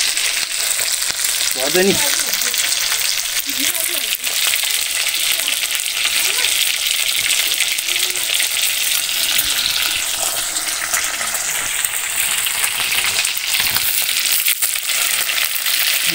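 Local Nepali fish fry in a pan with a dense, steady sizzle throughout, with occasional stirring clinks and a brief voice near the start.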